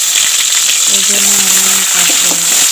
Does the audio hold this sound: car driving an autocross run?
no